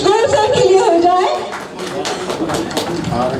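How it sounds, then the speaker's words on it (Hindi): Applause for Ramesh Goyal at an award ceremony, a dense wash of many hands clapping that rises after a voice and carries on steadily to the end. "एक बार फिर से जोरदार तालियां रमेश गोयल सर के लिए हो जाए।"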